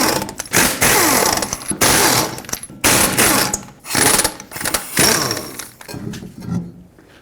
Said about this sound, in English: Use a 21mm socket and take off all 5 of your lug nuts so we can take the wheel off